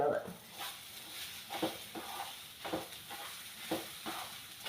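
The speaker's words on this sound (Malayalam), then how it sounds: "ഇത് നല്ലപോലെ നമ്മൾ ഫ്രൈ ചെയ്യണം" Semolina (rava) with grated coconut fries in a pan for rava kesari, with a soft sizzle under regular scraping strokes of a spoon stirring roughly every half second.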